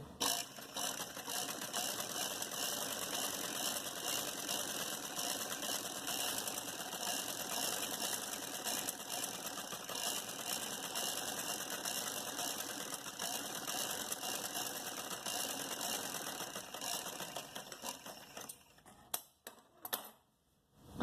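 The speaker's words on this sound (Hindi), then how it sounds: "अब इसी तरीके से हम यहाँ भी 2 लाइनें सिलाई की लगाएंगे।" A sewing machine stitches lines along a salwar hem, running in a loud, continuous, rapid mechanical whir for about nineteen seconds before stopping, followed by a few brief clunks.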